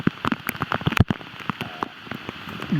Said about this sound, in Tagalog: ulan na oh. ah, hirap umuulan umuulan yan o